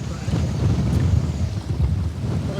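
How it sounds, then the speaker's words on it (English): Strong wind roars over open water aboard a fishing boat out snapper fishing, a loud, steady buffeting rush with continuous low turbulence close to the microphone throughout. "I was trying to film the wind on the water and make it look as wild as it is"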